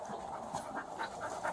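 A dog pants rapidly and rhythmically near a car during a roadside police encounter, quick breathy puffs repeating several times, faint and close.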